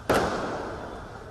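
A firecracker bursts during a street protest outside a parliament compound, one sharp loud crack followed by a long fading rumble of crowd noise and echo.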